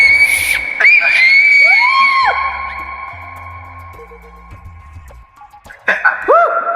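A person whistles several sliding notes that rise and fall, ringing with a reverberant echo in a cave chamber in Barbados, loud and close, with brief crowd noise and voices at the start and end.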